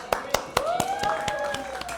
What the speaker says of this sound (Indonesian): Kasih tepuk tangan untuk kita semuanya.